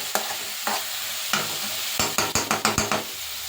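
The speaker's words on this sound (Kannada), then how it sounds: "ಫ್ರೈ ಆಗಿದೆ ಟೊಮೊಟೊನು ಸ್ವಲ್ಪ ಸಾಫ್ಟ್ ಆಗಿದೆ" Tomatoes sizzling softly in a pan while a spoon scrapes and stirs, with scattered knocks early and a quick run of rhythmic stirring strokes near the end, close and without voices.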